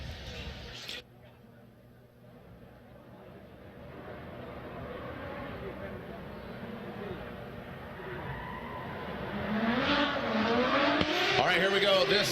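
Formula Drift Pro competition in Long Beach: a Nissan R32 drift car roars past with engine howl and tires squealing, growing louder toward the end, while an announcer talks over it.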